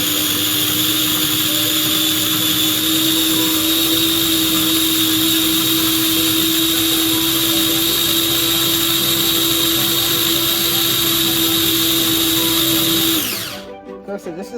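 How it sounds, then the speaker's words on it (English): A blender whirs steadily at high speed, crushing tofu scramble seasoning made of onion, garlic, shado beni and cilantro, with a loud constant motor whine that runs unbroken for about thirteen seconds before it spins down and stops. "So I am going to blending this up."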